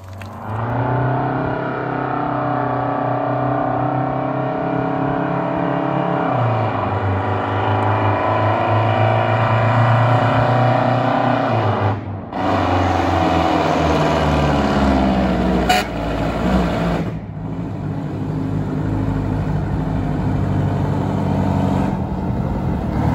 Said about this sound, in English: It needs a brand new exhaust system.